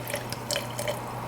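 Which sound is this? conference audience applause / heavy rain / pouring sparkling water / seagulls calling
pouring sparkling water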